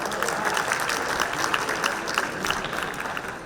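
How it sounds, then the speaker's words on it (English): An audience at an awards gala applauds steadily and loudly for a few seconds, a dense wash of clapping from a crowd with no talk over it. "Let's give it a round of applause for Hinsdale Central."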